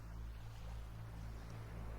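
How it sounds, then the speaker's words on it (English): Ocean surf sound effect opening a song: a soft, continuous rush of waves and wind over a low steady hum, faint and unbroken. "But I love this ocean sound."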